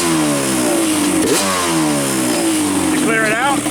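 Yamaha Banshee two-stroke engine revved during carburetor synchronization, loud and close, with rising and falling pitch sweeps and a sharp blip near the end.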